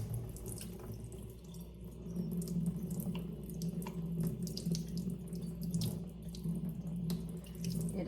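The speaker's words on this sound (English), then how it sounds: "turn your water on. You don't need a whole lot." Water runs steadily from a tap into a sink during a take-along craft project, a soft, even stream with small splashy flickers and no speech.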